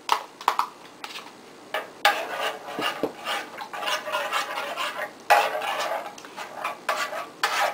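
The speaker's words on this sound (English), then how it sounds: "you stir it and keep stirring it so those flavors start to blend" A spoon stirs a tomato sauce mixture in a pan, giving repeated close scraping and rubbing strokes in uneven bursts with short pauses.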